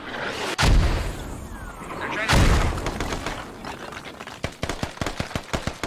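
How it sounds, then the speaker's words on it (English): Mortar rounds land on a hab in the Squad video game as two heavy, booming blasts a couple of seconds apart, followed by a rapid string of close gunfire cracks, with a voice talking over the action. "As mortars start dropping here on the hab."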